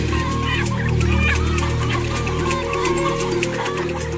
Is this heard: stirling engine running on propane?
no